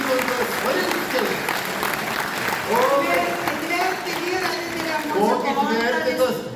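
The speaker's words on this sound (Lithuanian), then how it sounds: "Aplodismentai." An audience applauds a folk band from a district culture centre in Skuodas, the clapping dense and steady throughout while a voice talks over it.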